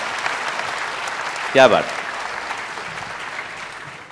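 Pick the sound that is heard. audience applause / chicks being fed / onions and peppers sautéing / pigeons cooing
audience applause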